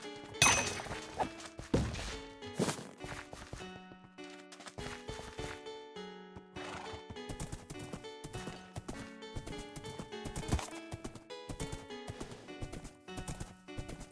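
Horse hooves clip-clop in a steady rhythm while riding in an MMO video game, a string of fairly quiet, sharp knocks over about fourteen seconds with no speech.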